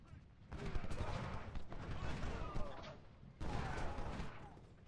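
Infantry musket volleys in the Ultimate General: Civil War game, a dense crackling fusillade that swells in two waves, fairly distant and rumbling, with someone talking quietly over parts of it.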